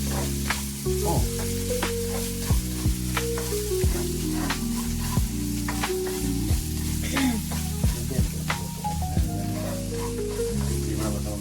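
Fried rice sizzles and fries steadily in a hot pan for the whole stretch, with occasional stirring scrapes and a tonal melody running underneath.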